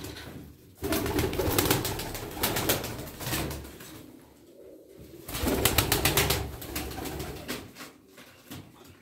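Tumbler pigeons cooing and fluttering close by, a busy stretch of soft coos and wing rustles that fades briefly in the middle before picking up again.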